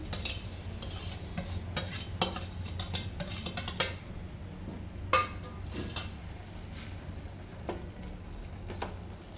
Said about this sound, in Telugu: వాటర్ మరుగుతున్నాయి కదా ఇప్పుడు ఇందులో ఈ సేమియా సన్నరవ వేయించుకున్న సేమియా సన్నరవ ఈ రెండు ఇందులో వేసేసుకోవాలి